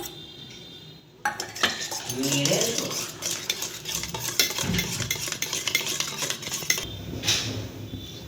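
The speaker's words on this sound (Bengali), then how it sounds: "এবার আমি নুন আর এতে চিলি ফ্লেক্স দিয়ে একটু নেড়ে নেব।" Eggs seasoned with salt and chili flakes are stirred inside a metal tiffin box, giving a run of close, busy scraping and clinking of a utensil against metal that continues for several seconds after a quiet start.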